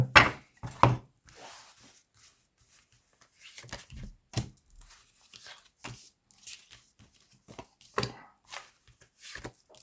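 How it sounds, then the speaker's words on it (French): Tarot cards being cut into five piles during a card reading, with a few soft, irregular slaps and shuffling taps of card stock on a table, spaced unevenly and fairly quiet. "Allez, on fait une coupe en 5 cartes."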